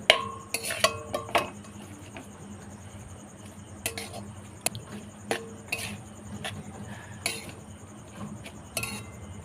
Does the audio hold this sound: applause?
no